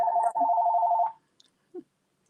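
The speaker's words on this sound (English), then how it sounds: "My phone is ringing." A phone rings indoors with a rapid trilling electronic ring that repeats for about a second, close and clear, then cuts off, leaving only a couple of faint small sounds.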